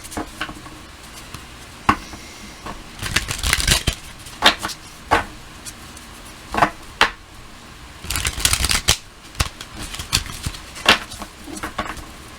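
A deck of cards being riffled and shuffled repeatedly, with quick bursts of flicking and snapping separated by short pauses, close up.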